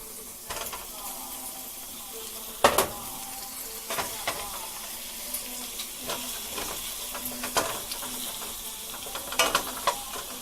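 Tomatoes go into a hot, sizzling pan and are stirred around, giving a steady frying hiss broken by scraping stir strokes at close range, with no talking.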